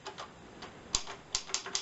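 Keys striking on a 1935 Hermes Baby portable typewriter, a light irregular clatter of several crisp taps, quiet and close, with no voices.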